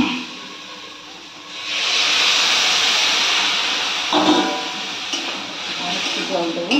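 Water poured into a hot pan of soybean chunks with Kashmiri chilli bursts into a loud, steady sizzling hiss that swells and stays strong, with a person talking over it.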